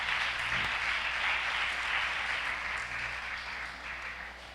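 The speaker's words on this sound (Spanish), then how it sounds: "Denle un aplauso fuerte al Señor." A church congregation claps for the Lord at a Spanish-language service, a steady even wash of applause that stays fairly quiet and distant and fades slightly toward the end, with no voices over it.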